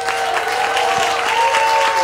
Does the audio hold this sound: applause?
yes